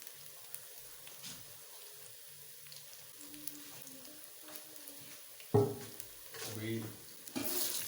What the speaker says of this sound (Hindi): कढ़ी को लगाते हैं बघार सुरख मिर्च का